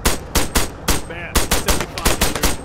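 Close, loud bursts of automatic machine gun fire in Arma 3, rapid repeated shots in short clusters with a brief pause near the middle.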